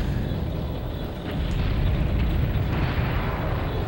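Tank shell explosions from the video game BattleTanx: Global Assault, a steady low, rumbling boom that swells slightly midway and keeps rolling throughout.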